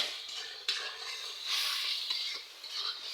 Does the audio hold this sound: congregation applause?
no